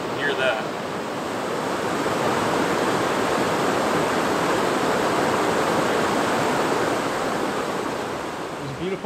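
Steady, full roar of a waterfall, a dense rushing wash of water that holds constant throughout, close by and loud.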